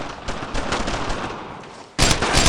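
Loud, dense bursts of rifle and machine-gun fire on Utah Beach in the World War II game Brothers in Arms: Road to Hill 30. The firing drops off briefly, then a second sharp volley erupts.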